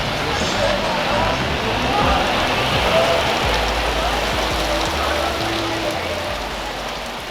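Steady, dense rain in Belém hisses down continuously, a close wash of drops on hard surfaces with no pauses or breaks.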